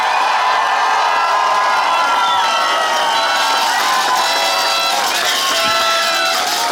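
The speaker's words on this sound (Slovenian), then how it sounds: "dajmo Žanu en največji aplavz, kar ga je Vodice kdaj dalo komerkoli" A large crowd at a homecoming reception for Žan Kranjc in Vodice claps, cheers and whoops continuously, loud and sustained, with shouting voices mixed through the applause.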